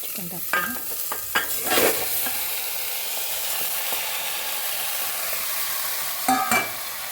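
Chicken hits a hot spiced tempering and sizzles steadily while a spoon scrapes and stirs it in a few distinct bursts, close and fairly loud.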